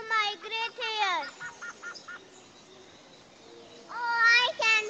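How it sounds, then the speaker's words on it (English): White-fronted goose calling, a series of harsh, nasal honks in quick bursts, fairly close, with a pause between groups and a louder honking burst at the end. "Oh, I can see the white-fronted goose."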